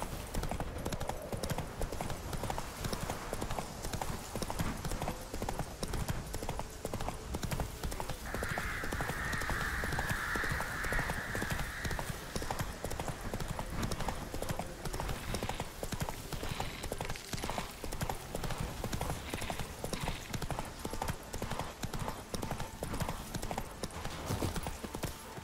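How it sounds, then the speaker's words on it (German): Steady rhythmic clip-clop of a horse's hooves while riding in The Witcher 3, continuous and close, with a brief whinny-like tone partway through. "dann reiten wir hier einfach durch."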